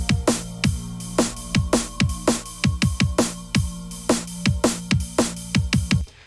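A steady, fast drum and bass loop with sharp snare and kick hits over a sustained low bass tone, playing cleanly with no voices.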